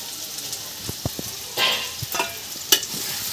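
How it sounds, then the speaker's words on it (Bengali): Sliced onion sizzles in hot oil in a pan while a spoon stirs it for a Bengali mankochu and prawn curry, giving quiet frying hiss broken by scattered clinks and scrapes. "পেঁয়াজটা ভাজা হয়ে গেছে,"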